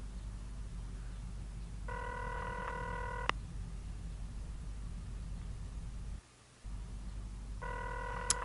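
An electronic telephone rings twice in The X-Files video game, each a sustained buzzing tone burst of about a second and a half separated by a long pause, over a constant hiss of background noise.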